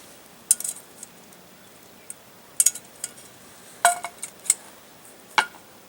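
Metal lid set onto a pot over a Sterno burner while cooking biscuits and gravy: a series of light, bright clinks and clatters spaced over a few seconds, near and alone in a quiet room.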